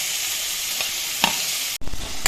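Chicken liver gaasi fries in a pan with a steady broadband sizzle, broken by a few sharp scrapes of a spoon being stirred through it, then a brief cut before the sizzling and stirring resume.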